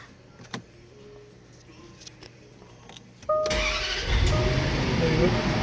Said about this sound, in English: now the truck starts amazing